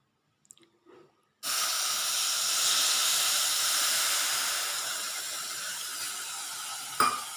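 Jaggery heated with a few spoonfuls of water in a pan gives a sudden, steady hiss and sizzle that starts after a few faint knocks, holds close and fairly loud, then eases slightly before a sharp clink near the end.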